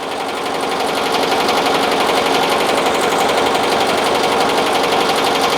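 A BAi Vision embroidery machine stitches 3D puff at about 750 stitches per minute, a loud, fast, evenly pulsing mechanical clatter that ramps up briefly and then runs steady and close.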